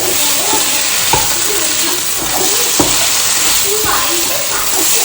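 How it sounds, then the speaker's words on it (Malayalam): Spoonfuls of coriander powder and garam masala are stirred into a thick roast masala in a pan. A steady sizzle runs under a few sharp spoon scrapes and knocks against the pan, with faint talk. "മല്ലിപ്പൊടി ഗരം മസാല ഇത്രയും നമുക്ക് ആഡ് ചെയ്തിട്ട് ഇത് നല്ലതുപോലെ മിക്സ് ചെയ്ത്"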